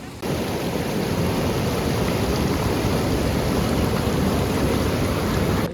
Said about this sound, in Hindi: बाकी पानी का बहाव भाई बहुत तेज़ है।